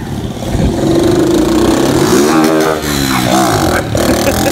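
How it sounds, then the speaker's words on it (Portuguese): A motorcycle is revved hard up to its rev limiter and then the clutch is released, close and loud, with the engine note holding steady before swooping up and down in pitch. "Acelera até cortar de giro e solta a embreagem"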